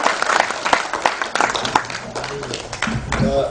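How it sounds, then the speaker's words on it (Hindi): Audience applause after a theatre play in a Hindi-speaking venue, a dense wash of clapping that fills the clip steadily with a presenter's voice faintly over it. "तो जोरदार तालियां एक बार नाटक के लिए हो जाएं"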